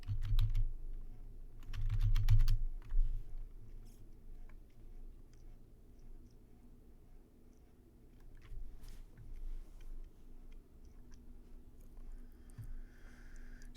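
Typing on a computer keyboard at a desk, a soft cluster of key clicks early on and then sparse faint taps over a steady low room hum.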